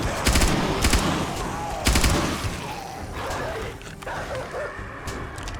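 Machine gun fire in the video game 7 Days to Die, loud rapid bursts in two clear volleys followed by a rougher, quieter stretch of continued shooting and noise.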